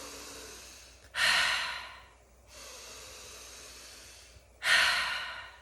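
Two slow, deliberate exhales during a breathing exercise, each a soft breathy rush that swells and fades, separated by quieter inhales, close and alone with no talking.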